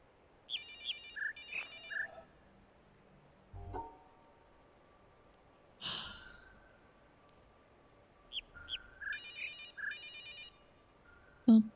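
An electronic phone ringtone chirps in repeated short bursts in the video game The Witness, broken by sparse clicks and soft thumps, with a final ring pattern late in the clip. No one speaks.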